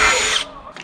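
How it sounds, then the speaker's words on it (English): A power drill bores holes in a deck stair rail, whining loudly for under half a second before it spins down, followed by a brief faint squeal. "So I always pick up on it just a little bit and get my holes drilled"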